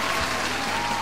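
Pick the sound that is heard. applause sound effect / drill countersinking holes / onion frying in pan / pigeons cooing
applause sound effect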